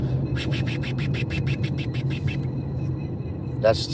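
Newly installed brakes on an RV rolling slowly give off a rapid series of rhythmic squeaks over a low engine rumble, then fall quiet before one short, rising squeal near the end.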